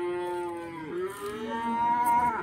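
Simmental cattle at a livestock market letting out a long, clear moo that bends in pitch, then a second rising call, close and loud with no talk over it.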